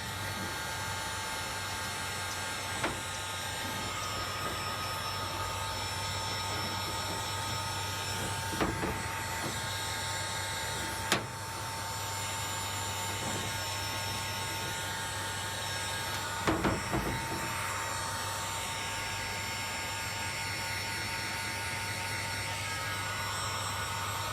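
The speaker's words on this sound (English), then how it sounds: "And we'll just use the heat gun." A heat gun blows a steady, hissing hum while melting solder on a 1974 Ford F350 cab roof light wire, with occasional faint clicks and handling taps over the continuous drone and no speech.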